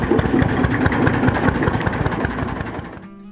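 A vintage Lanz Bulldog German tractor engine runs loudly and steadily up close, with a rapid rhythmic thumping beat before it fades out at the very end.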